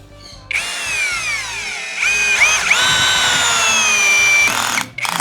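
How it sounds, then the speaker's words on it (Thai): A NANWEI 16.8V two-mode cordless drill driver drives a large screw into wood without a pilot hole, its motor whining steadily and dipping in pitch under load, then surging again before stopping abruptly near the end. "เดี๋ยวก็จะขัน น็อตตัวนี้ลงไปเลยนะนะครับ"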